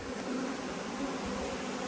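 Honeybees drone in a steady, close buzz around an opened hive while nucs are being made, a continuous hum with no breaks and no voices.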